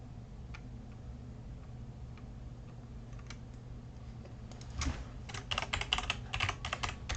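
Keystrokes on a computer keyboard click softly and sparsely at first, then quicken into a faster, louder burst of typing near the end, heard alone against a faint background hum.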